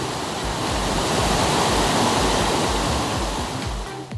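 Chasteen Cascades waterfall roars beside a hiking trail in the Smokemont area, a dense, steady rushing of falling water heard up close and loud with no voices.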